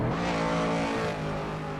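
A 1960s race car in Assetto Corsa at Fuji roars past loudly and close, a steady high engine drone that sweeps slightly downward as it goes by.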